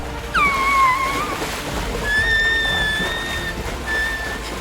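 Water splashes and rushes in a continuous wash while sharp, high keening cries rise and fade above it in a dramatized scene of someone plunging into water and being swept away.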